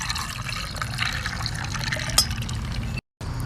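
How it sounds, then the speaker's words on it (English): A drink poured into a cup of ice and straws, a steady close trickle and splash of liquid running for a few seconds before a brief cut. "And now you pour it in."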